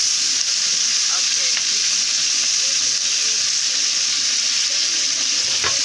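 Paprika and cucumber sizzle in a hot pan after being added, a close, steady frying hiss that runs unbroken throughout, with faint stirring clicks now and then.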